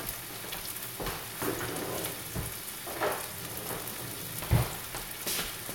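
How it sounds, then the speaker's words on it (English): Onion frying in a pan while being stirred, a soft continuous sizzle broken by scraping spatula strokes and a sharper knock near the end, close and fairly quiet, with no talking. "So, I'm just stirring the onion in, cooking it through."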